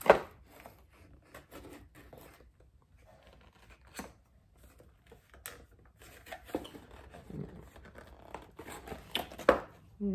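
A boxed Ozark Trails 4-in-1 camping stove being unpacked nearby, with irregular crinkling, tearing and rustling of cardboard and packaging, scattered sharp rips and light knocks, and no talking.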